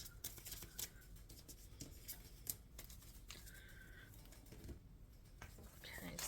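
Tarot cards are shuffled close up in soft, irregular riffles and slides with occasional sharper snaps, faint and quiet, with low murmured speech in places.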